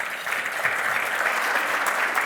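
An audience at a year-end dinner at the Bolsa de Comercio claps steadily in a brief, dense burst of applause, moderately loud and without voices.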